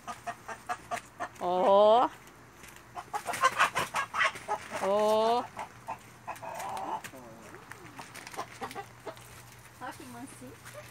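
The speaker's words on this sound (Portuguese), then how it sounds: "E as galinhas já chegou, hein, gente? Olha aí as galinhas." Chickens cluck and call from a newly built bamboo coop, several loud, close, drawn-out calls mixed with short clucks, while a person briefly speaks nearby.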